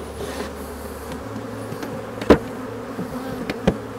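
Honeybees buzz around a hive after a swarm was moved in, a steady close insect drone with a couple of brief louder passes near the microphone.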